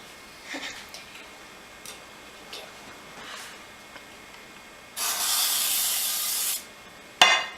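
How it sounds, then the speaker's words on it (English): A long steady hiss of cooking spray sprayed onto a baking pan lasting about two seconds, then a short second burst, after quieter clicks and rustles. "So you need to spray cooking spray all over this pan now."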